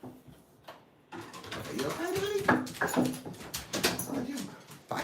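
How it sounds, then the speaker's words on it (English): A dog whimpers and whines indoors after tangling with something outside, with a few cooing, high cries close by and a person's voice mixed in. "It sounded like the dog was like getting after something outside."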